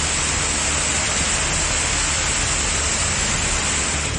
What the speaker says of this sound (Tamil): இடி மின்னலுடன் மழை வெளுத்து வாங்கியது